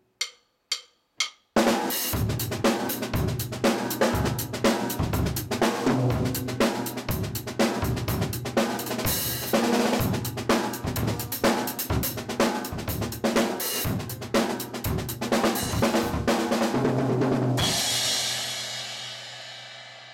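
A fast drum groove driven by steady hi-hat with snare backbeats, preceded by a few sharp count-in clicks and ending in a crash wash.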